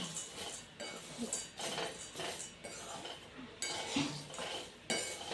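Dry fruits are stirred in a pan on the stove with repeated soft scraping and clinking of a metal utensil, faint and close-up in short rhythmic strokes.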